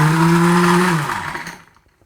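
A Scott Gustissimo heated blender running at speed, a loud steady whirring motor drone with a low whine that winds down and fades to silence near the end.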